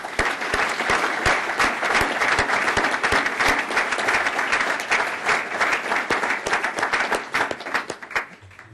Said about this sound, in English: And a round of applause for Baker Hostetler.